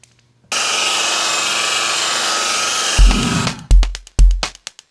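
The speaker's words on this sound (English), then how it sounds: "When used with a wool pad, it produces an aggressive machine glaze" A machine polisher with a synthetic blend wool pad and Surface Magic glaze whirs in a steady, loud, close drone for a few seconds, then winds down amid bumps and handling knocks.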